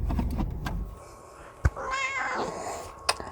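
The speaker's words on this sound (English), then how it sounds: "she's over here meowing at me." A pet cat meows indoors, one drawn-out, rising and falling meow close to the microphone, with a few soft clicks and room noise before and after.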